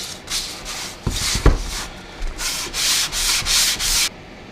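Rough sole of a Stanley hand plane rubbed back and forth over sandpaper, a series of close, loud, rasping strokes in an even rhythm, each stroke a bright scratchy burst with short pauses between, no voices.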